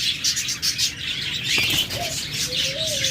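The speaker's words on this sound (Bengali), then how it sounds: "আপনাদেরকে আমি কিছু ককাটাল দিয়ে শুরু করি" Cockatiels chirp in short calls alongside wing flapping and rustling, with a couple of brief whistled notes near the end.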